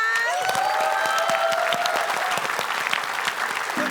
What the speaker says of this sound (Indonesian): Selamat sekali lagi, boleh kita beri tepuk tangan.